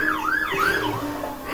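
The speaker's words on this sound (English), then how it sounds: "you can hear the sirens in the background" A wailing emergency vehicle siren in a Roblox voice-chat game rises and falls in long, smooth sweeps, sitting steadily in the background throughout.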